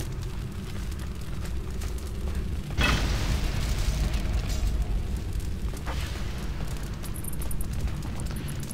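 Bombs go off in the online game TERA as a sustained, loud rumbling burst that swells at about three seconds and holds over a continuous low game din.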